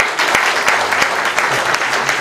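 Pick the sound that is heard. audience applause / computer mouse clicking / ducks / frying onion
audience applause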